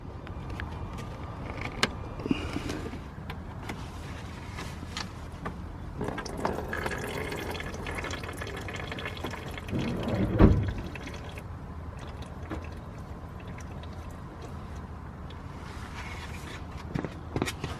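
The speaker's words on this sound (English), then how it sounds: "I'm going to leave it to finish dripping" Power steering fluid drains and drips from disconnected lines under a BMW, a faint, steady trickle with scattered soft drips in a quiet garage.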